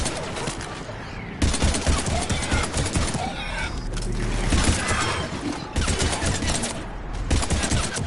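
Gunfire in Mass Effect: dense bursts of rapid shots crackle almost continuously, loud and close, with short pauses between volleys and faint voices underneath.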